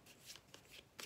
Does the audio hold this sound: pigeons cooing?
no